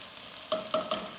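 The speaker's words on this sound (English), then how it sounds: "I'm just gonna fry them a little bit." Chicken cooks in a pan at a quiet simmering sizzle, broken by three sharp clinks of a utensil against the pan, evenly spaced near the end.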